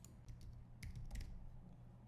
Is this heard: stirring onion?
no